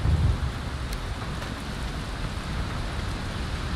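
Heavy rain and rumbling thunder from a thunderstorm at sea in the video game Valheim, a steady close wash of rainfall with a deeper rumble at the start and no talking.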